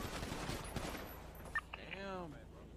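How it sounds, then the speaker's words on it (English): Gunfire rattles in GTA on the NoPixel roleplay server. Rapid, fairly faint bursts fill the first half of the clip, then fade, leaving a voice-like tonal sound and background noise. "Boys are shooting at the block."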